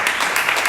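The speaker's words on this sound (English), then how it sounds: "Give yourselves a round of applause." A small audience of about fifteen people at a real estate investment talk gives itself a round of applause, a very short burst of fairly loud, close clapping.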